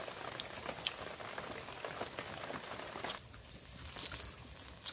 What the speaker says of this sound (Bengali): উল্টে পাল্টে আমি একদম লাল করে এটা ভেজে নেব